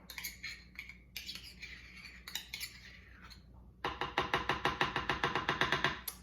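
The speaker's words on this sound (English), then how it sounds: "I'm gonna use my spoon again to help me scoop it out" Soft scraping and a few clinks of a spoon against a blender jar, then a quick run of rhythmic scoops tapping and scraping out smoothie, close and fairly quiet.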